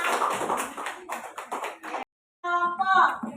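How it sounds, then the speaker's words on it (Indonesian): A small group of students in a classroom claps briefly for their classmates, the claps mixed with talking voices, followed by a short pause and more speech. "Tepuk tangan dulu untuk temannya"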